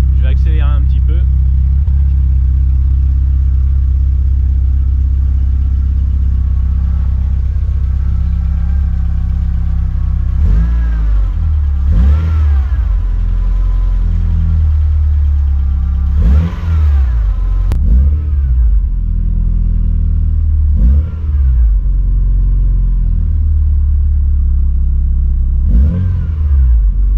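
A 1987 Volkswagen Scirocco II GTX 16V, 139 hp, with a rough-running engine, idles steadily close by and is given several short blips of the throttle, each rising and falling, while someone talks over it.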